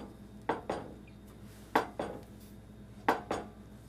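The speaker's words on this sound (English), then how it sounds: "the rubber spatula is a lot easier to use. And I'm not scratching my pan." A rubber spatula works around a bundt pan to free a vegan chocolate cake, giving three pairs of soft scraping knocks against the metal at steady intervals, close and moderately loud with no talk.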